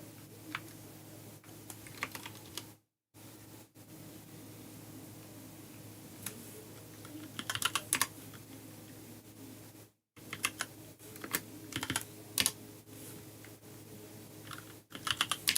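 A computer keyboard is typed on in scattered bursts of clicks during an Active Directory enumeration exercise in PowerShell, close and fairly quiet over a steady low room hum.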